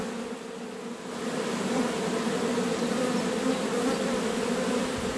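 A dense, steady drone of many honeybees buzzing close by around an open hive, rising slightly in intensity after the first second and holding constant with no voices.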